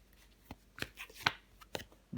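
Tarot cards being handled and laid down on a table, a handful of soft, distinct slaps and light shuffling taps spaced unevenly, close and quiet.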